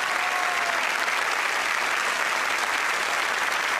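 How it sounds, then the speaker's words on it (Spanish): Steady, dense applause from an audience at a tribute concert of Chilean folk music featuring a national folkloric ballet, continuous and fairly full for the whole stretch with no talk over it. "Aplausos, reconocemos la obra de Nicanor Molinari"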